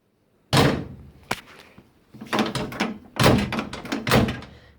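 A Ford Fairlane car door is worked open and shut several times, giving loud close thunks and latch clacks with rattling in between.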